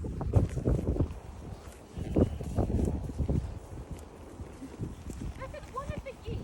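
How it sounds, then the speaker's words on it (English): Strong wind gusting outdoors in a garden with a pizza oven, buffeting the microphone in loud rumbling bursts, with a person speaking briefly. "It's very windy though,"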